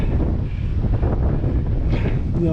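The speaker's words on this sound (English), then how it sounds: "Yeah, it's windy, very windy." Loud, constant wind roars and buffets the microphone with a heavy low rumble, gusting throughout with no letup, near a rock crevasse.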